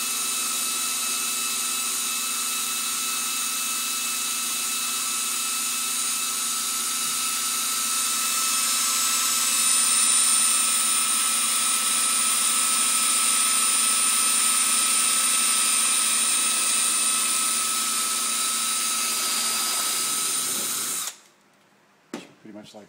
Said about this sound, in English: let the drill basically just melt its way through